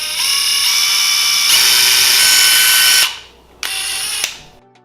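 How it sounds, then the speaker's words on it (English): A power drill whines as it bores holes into cinnamon sticks for a fall garland, a steady high grinding run for about three seconds, a brief pause, then a second shorter burst close to the mic. "I'm gonna drill holes into 18 cinnamon sticks."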